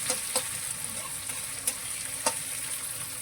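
Green chillies fry in a pan with garlic, a steady bright sizzle punctuated by a few sharp clinks and scrapes of stirring, close and unaccompanied by voices.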